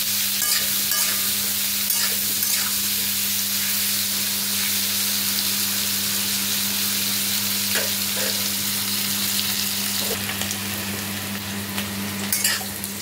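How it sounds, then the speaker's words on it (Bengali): Steady, loud sizzling of potatoes frying in hot oil, with occasional stirring scrapes and a constant hum underneath. "দিয়ে আলুগুলো ভালো করে ভেজে নেব লাল লাল করে"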